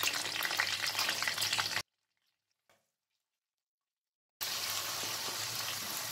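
Green chillies and tomatoes fry in a pan over medium heat with a steady close sizzle. The sizzle cuts out to near silence for a couple of seconds, then resumes.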